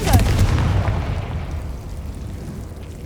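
Confringo blasting curse from Hogwarts Legacy goes off as a loud booming burst at the start, followed by a rumbling tail that slowly fades away.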